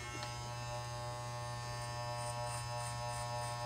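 Electric hair clippers buzz steadily and close up while fading an undercut at home, a continuous even drone with no pauses and no talking.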